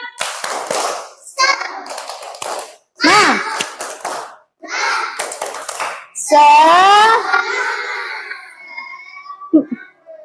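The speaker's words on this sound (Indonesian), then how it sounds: "kita hari ini mulai dengan tepuk semangat" Schoolchildren in a classroom chant and clap in rhythm during a tepuk semangat cheer, with short bursts of group voices and claps separated by brief pauses, then a final tap.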